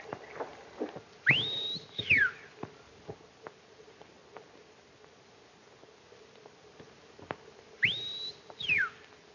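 A person whistles two rising-and-falling calls, one near the start and another several seconds later, with faint rustling and light tapping in between.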